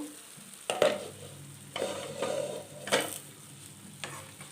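Potato and pointed gourd curry gets stirred in a pan, a few distinct spoon scrapes and clanks over a soft continuous sizzle, close and moderately loud.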